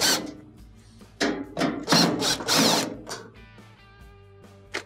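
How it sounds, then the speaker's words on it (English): Phillips bit in a power driver spinning out console top screws, several short whirring bursts with brief pauses between them, loud and close. "to remove the top, you will have to remove these 3 screws here. All of them can be taken off with the Phillips bit"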